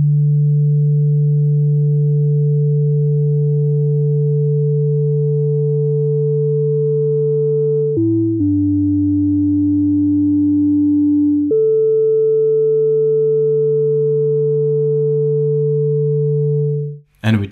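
Newfangled Audio Pendulate, a free Buchla-inspired synthesizer plugin, holding a steady sine-like tone with a few overtones, shifting abruptly to a lower pitch midway and then back, ending in a short click.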